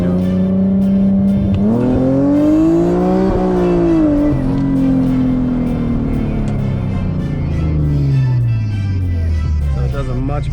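Tuned Infiniti G37 pulling in third gear, engine pitch climbing steadily, dipping briefly, then falling away as revs drop; loud and close, with someone talking over the engine.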